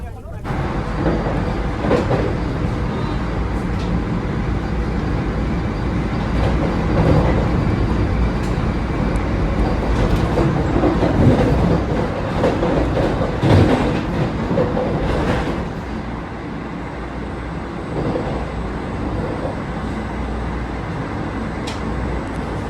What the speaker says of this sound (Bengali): আমরা একটা স্টেশন ডিপার্চার করছি